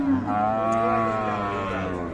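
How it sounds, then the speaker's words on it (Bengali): A young bull at a Ranigonj livestock market in Dinajpur lets out one long, close, loud moo lasting nearly two seconds, steady and drawn out. "দর্শক এই যে একটা কিন্তু ষাঁড় বাচ্চা আছে দারুণ বাচ্চা"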